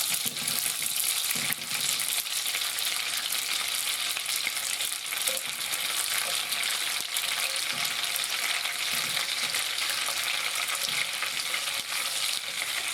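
Fat melting in a hot pan for white milk sausage gravy gives a steady, loud, continuous sizzle with faint stirring scrapes underneath, and no voices.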